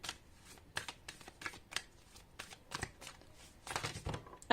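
Tarot cards shuffled by hand for a Major Arcana draw, a run of quick, dry riffling bursts close to the microphone, repeating in uneven clusters for a few seconds with no talking.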